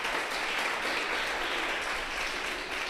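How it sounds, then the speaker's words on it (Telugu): A congregation at a church thanksgiving gathering claps together in steady, dense applause, filling the room evenly for a few seconds. "అమరావతి వాళ్ళకి ఒకసారి మనం క్లాప్స్ కొడదాం"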